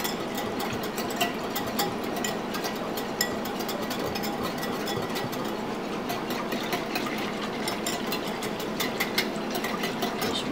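An electric whisk runs steadily while mixing a sauce for cross-cut baby back ribs, a continuous motor whir with a faint rattling texture, close and unbroken for about ten seconds.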